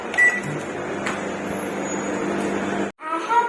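A solo microwave oven runs at full power heating a bowl of rice kheer, giving a steady close hum with a faint whir that cuts off abruptly near the end, then resumes briefly.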